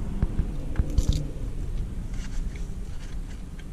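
Someone in a car chews dry venison and pork jerky with jalapeno, a few crunchy bites at first followed by softer chewing, close to the mic over low engine rumble, with no talking.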